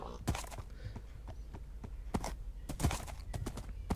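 A Minecraft horse walking with hollow, evenly spaced clip-clop hoofbeats, broken by sharp neighs and whinnies, close and fairly quiet with no talking.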